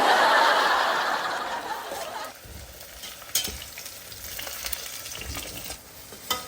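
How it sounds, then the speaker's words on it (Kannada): Chopped onions hit hot oil in a pan for egg biryani, giving a loud hissing sizzle that fades after a couple of seconds into a softer steady frying with occasional scrapes of a stirring spoon. "ಹಂಗೆ ಕಟ್ ಮಾಡಿರೋ ಈರುಳ್ಳಿ ಹಾಕೊಳ್ರಿ. ಗೋಲ್ಡನ್ ಕಲರ್ ಆಗ್ಬೇಕು, ಆ ತರ ಹುರ್ಕೊಳ್ರಿ."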